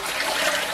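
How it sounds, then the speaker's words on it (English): Water poured while brewing a braggot mead, a steady close gush of liquid lasting under a second, with no talk. "I'll pour the rest of this and then also pour more water in"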